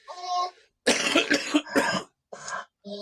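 A series of harsh, close coughs in separate bursts with short pauses between, loud and raspy.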